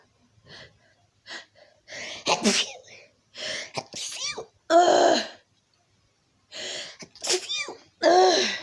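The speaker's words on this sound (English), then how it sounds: "Hold on, I gotta sneeze." A run of gasping breaths and sharp, explosive sneezes comes in bursts separated by short silences, close and loud, with a voice in between.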